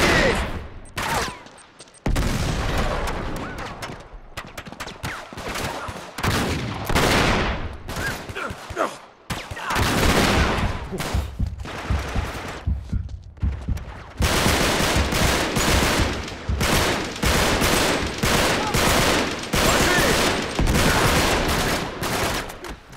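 Gunfire in Uncharted 3: Drake's Deception comes in rapid bursts and sustained volleys, loud and close, with brief pauses between exchanges over a long firefight.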